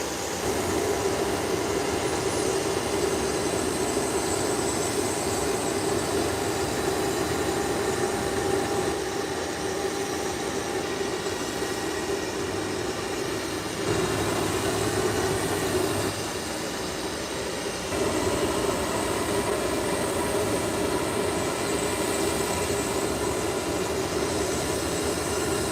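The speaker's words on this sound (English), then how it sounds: "So this is Inter-Caribbean, Embraer 120." An Inter-Caribbean Embraer 120 turboprop at an airport fills the air with a continuous, fairly loud droning engine rumble and a steady whine, lasting the whole span with only slight dips.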